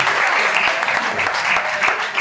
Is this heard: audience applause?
yes